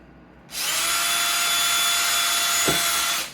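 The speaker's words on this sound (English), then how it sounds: "Now we're going to grab a slightly bigger drill" A slightly larger drill bit widens a hole during a KitchenAid food processor fuse repair. After a brief quiet start, a loud whine kicks in and runs steadily for almost three seconds, with a short low thump partway through, then cuts off abruptly.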